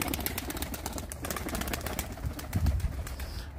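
Tumbler pigeons coo and flutter close by in a loft, soft repeated low cooing with rapid clicks and wing rustles throughout.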